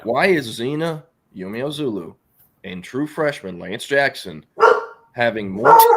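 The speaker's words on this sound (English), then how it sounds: "I know my dog's bark." A pet dog barks a few times in the background, brief and partly masked by someone talking steadily over it.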